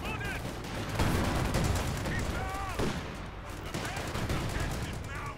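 Rifle and bazooka fire in the WWII strategy game Company of Heroes 2, a dense continuous stream of overlapping shots and blasts with brief whistling tones, loud throughout.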